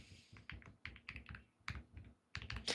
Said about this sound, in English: when you're typing on your keyboard, the microphone will hear it